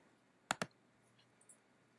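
Two quick, crisp computer mouse clicks in close succession, near and fairly loud against a quiet background, followed by a couple of faint ticks.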